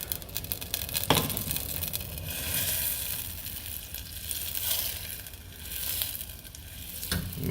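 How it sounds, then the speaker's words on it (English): Butter melts in a pan for a breakfast dish, giving a continuous soft sizzle and crackle with gentle swells. A few louder clinks and scrapes sound close by. "Melting some butter."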